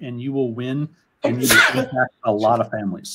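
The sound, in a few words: sneeze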